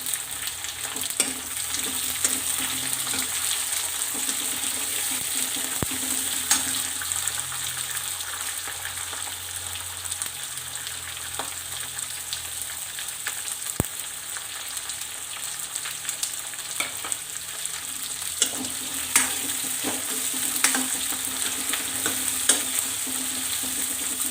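Continuous close sizzle of onions frying in oil, broken by frequent scraping stirs and occasional sharp pops and clinks.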